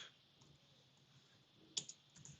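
Faint, quick clicks of typing on a computer keyboard while writing code, a soft irregular patter that ends in a few sharper keystrokes.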